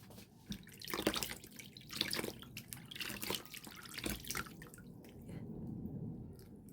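Water from a tap splashing and dripping at a sink while a face is washed, irregular close splashes and trickles in short bursts, fairly faint, with no talking.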